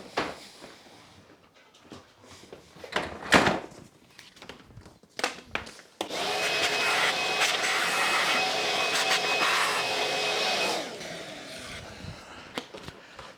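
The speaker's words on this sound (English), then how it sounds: "I'll get the vacuum cleaner, suck that shit up." A workshop vacuum cleaner sucks up debris, starting with a sudden loud whine and steady roar that runs for several seconds before cutting off, after scattered clatter and scraping.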